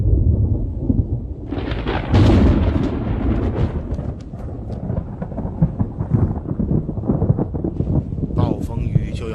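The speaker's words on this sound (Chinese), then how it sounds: "暴风雨就要来了。" Deep rolling thunder rumbles loudly through a stormy scene in a Tang dynasty drama, with a sharper crack partway through and a sustained low wash like wind and rain underneath.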